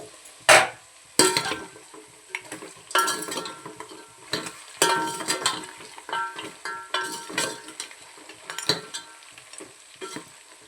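Ginger sizzling in hot oil for a village-style country chicken curry, stirred in bursts with repeated spoon scrapes against the pan, close and lively.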